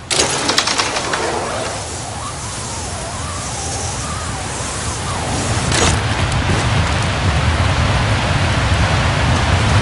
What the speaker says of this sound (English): Rain is moving.